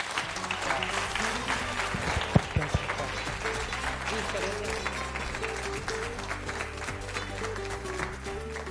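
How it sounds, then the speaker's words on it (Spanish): Sustained applause from a television studio audience, dense steady clapping over background music, with a few louder claps standing out. "Un aplauso, por favor, para Víctor."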